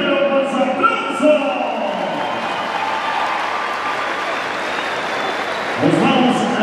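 Applause and crowd noise from spectators at a jaripeo bull-riding tournament in Michoacán, Mexico, a broad steady wash of clapping lasting several seconds with a slight swell near the end.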